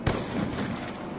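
Rapid gunfire rattles through a wall in a zombies video game, a quick burst of loud, close shots that opens with a sharp crack and has no talking.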